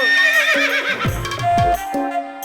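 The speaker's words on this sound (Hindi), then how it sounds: "देखो वहाँ देखो सर, घोड़ा सर आ रहे हैं" Horses neighing loudly as they approach on horseback in a Hindi-dubbed action film, shrill whinnies rising and falling over a sustained orchestral tone, with low thudding hoofbeats in the middle.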